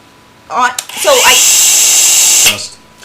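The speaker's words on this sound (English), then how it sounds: "it's a half-inch belt sander is what it is" A Ryobi half-inch belt sander starts up with a quick rev, then runs with a loud, steady high whine for about a second and a half before cutting off, a voice heard briefly before it spins up.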